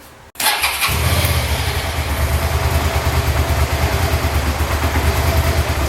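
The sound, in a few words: Suzuki SV650S motorcycle engine starting after fuel pump replacement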